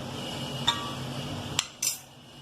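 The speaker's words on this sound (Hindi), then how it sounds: "अब हम लास्ट में आलू ऐड करेंगे" Boiled potatoes go into a pot of chicken macaroni with a few sharp metallic clinks of a utensil against the pot, spaced apart over a low steady background, with no talking.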